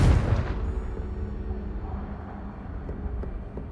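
A Confringo spell explosion in Hogwarts Legacy hits as one heavy boom right at the start, then fades into a low, rumbling tail that lingers for a few seconds.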